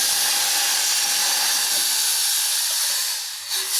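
Yogurt and gram flour batter hits hot oil tempering for a kadhi, giving a loud, steady sizzling hiss that fills the whole moment and eases slightly near the end.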